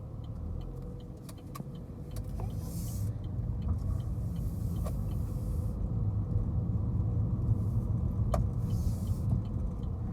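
A car rolls slowly along the little narrow roads of Cottonport, Louisiana, with a steady low engine and tire rumble from inside the cabin and a few faint clicks and creaks.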